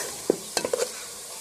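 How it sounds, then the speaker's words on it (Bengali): Spoon scraping and stirring coconut milk puli pitha mixture in a pot, a few quick close knocks and scrapes against the pan over a faint background hiss. "এখন এটাকে নাড়তে থাকবো বারবার, না হলে পাতিলে ধরে যাবে, পুড়ে যাবে।"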